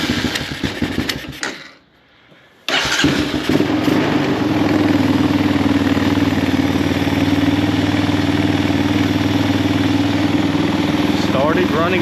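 A 1999 Honda Recon 250 ATV engine after a top-end rebuild, with a short cranking burst, a brief silent gap, then the engine catching and settling into a steady, loud, close idle that runs to the end.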